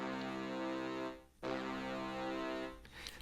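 A Biggie Brass preset on the Xenology synth plays a thick, sustained brass chord for a trap beat, cutting out briefly and then sounding again, loud and close.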